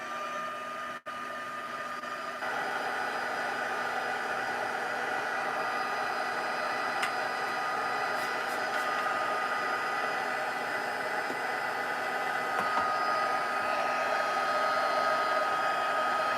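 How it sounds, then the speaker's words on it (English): A handheld heat tool blows a steady, loud hot-air whoosh at close range while melting embossing powder on a stamped card, running continuously with no talk. "we're going to heat this up until the powder melts and becomes raised"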